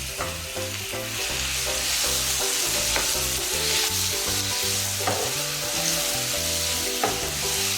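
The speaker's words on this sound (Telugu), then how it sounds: "ఇప్పుడు మనం ముందుగా రెడీ చేసి పెట్టుకున్న కందనకాయ ముక్కల్ని ఇందులో వేసుకొని వేపుకోవాలి" Chicken gizzard pieces fry in a ginger, garlic and onion paste, giving a steady, even sizzle with occasional stirring scrapes, mostly buried under loud continuous music.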